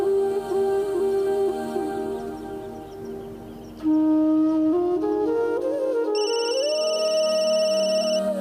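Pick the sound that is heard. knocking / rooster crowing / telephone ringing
telephone ringing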